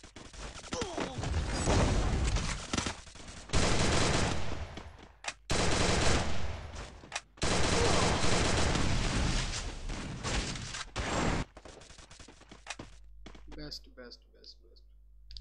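Gunfire in a video game shooter, long loud bursts of automatic fire in several separate volleys with short gaps between them, fading to quieter game sounds at the end.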